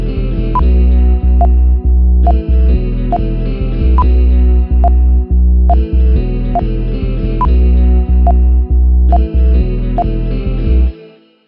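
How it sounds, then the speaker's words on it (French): Guitar pad with added delay, from a lesson on Kendrick Lamar's DNA., holding a loud, dense sustained tone built on a two-note double stop, with repeating accented notes and echoing swells before it cuts off near the end. "sur ce son on a rajouté également du délai qui se situe ici"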